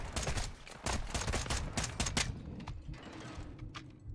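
Gunfire in the Call of Duty: Modern Warfare 2 campaign video game, a dense fusillade of rapid shots over the first couple of seconds that thins to scattered bursts and background battle noise.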